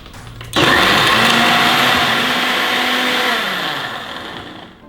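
A countertop blender whirs into a loud, steady roar as it blends a two-person smoothie with water, running evenly for several seconds before winding down at the end.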